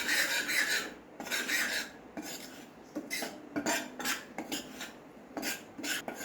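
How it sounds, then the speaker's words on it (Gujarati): Flour roasting in ghee in a pan over a low gas flame for Gujarati garmalo, with close rasping scrapes and stirring strokes at an uneven rhythm, fairly faint, no voices. "ધીમા ગેસ ઉપર તમારે લોટ શેકી લેવાનો છે"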